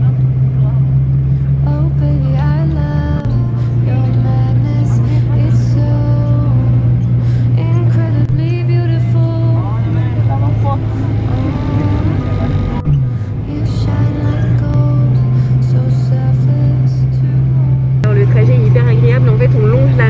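A bus droning steadily along a coastal road in Croatia near the Montenegro border, a continuous low engine hum with gear shifts, while someone talks over it.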